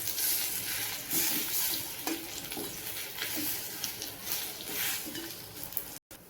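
Dates softening in a little ghee in a pan, stirred with a steady scraping, faint sizzle and occasional clinks of the spoon against the metal, continuous and close for several seconds.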